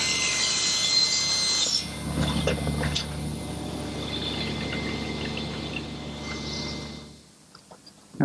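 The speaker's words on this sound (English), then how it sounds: "One more pass through the dado head cutter, and then I just split it in half." A table saw fitted with a dado head cutter takes a pass through wooden T-molding, a steady whirring cut with a brief rise in rubbing noise midway before the blade spins down near the end.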